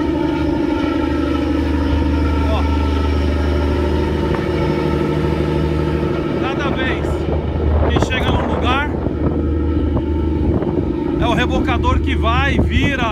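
Steady low engine drone of a tugboat towing an engineless ferry on the crossing from São José do Norte to Rio Grande, with wind noise throughout and voices talking over it in the second half.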